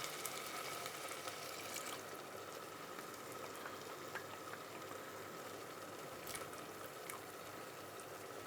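Gravy for a traditional cottage pie made with leftover cooked beef simmers in a pan, giving a steady, quiet bubbling and fizzing with no voices.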